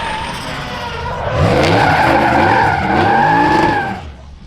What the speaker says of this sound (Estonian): Tubli mees, ajab rehvi ilusti soojaks.